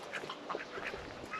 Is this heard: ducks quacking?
yes